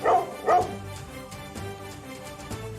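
A cartoon dog barks twice loudly up close, then gives a few softer yips and whines over a busy background.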